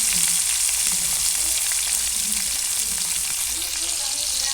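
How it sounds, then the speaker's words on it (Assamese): Chopped onions sizzle steadily in hot oil in a pan where cumin seeds were tempered first, a constant bright hiss at close range with no talking. "মই ইয়াত পিঁয়াজ দি দিছোঁ। পিঁয়াজখিনি ধুনীয়াকৈ ভাজি ল'ম।"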